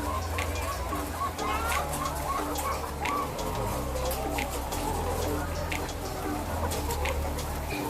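Hens clucking and chattering steadily throughout a layer coop on a farm, with many overlapping calls and a constant low hum of fans or machinery beneath.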